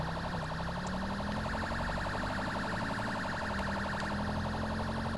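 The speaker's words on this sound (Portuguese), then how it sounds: "Olha o alarme aí, já está disparado, entendeu?" A bank alarm in the video game GTA V wails continuously with a steady, repeating electronic tone that sits at moderate level for the whole stretch, and no one speaks.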